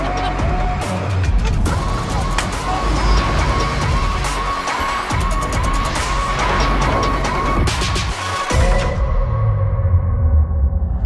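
Mercedes-Benz EQS electric car accelerating on the road, a continuous interior hum with rising tonal whine, repeated clicks and knocks, heard from inside the cabin.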